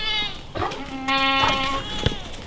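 Goats on a homestead give several clear, wavering bleats, with one long nasal call in the middle and shorter cries around it, heard close up outdoors.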